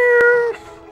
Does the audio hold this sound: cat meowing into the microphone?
yes